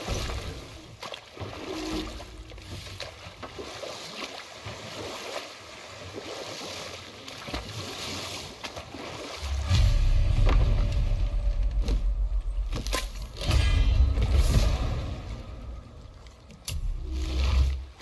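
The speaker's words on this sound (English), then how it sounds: "Keep rowing towards the statues of the oarsmen, then thread past between them." Oars splash and creak as a boat is rowed across water in God of War Ragnarok, soft strokes swelling into louder surges of water and movement at intervals, with no talk over them.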